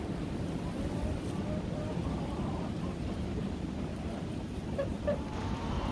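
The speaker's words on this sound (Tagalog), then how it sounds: "Ang lakas ng hangin, guys." Strong wind blowing around a home where chickens are kept, a steady, loud, roaring rush of air that keeps up without a break from start to finish.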